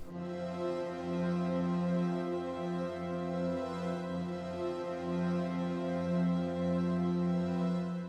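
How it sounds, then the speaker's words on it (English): A soft, gentle string pad from the Blueprint preset holds sustained chords layered beneath piano chords in an emotional Afro house arrangement, smooth and continuous with slight swells, close and alone without speech. "gentle string sound. And this will be used to layer underneath the piano chords and give it this more dramatic and"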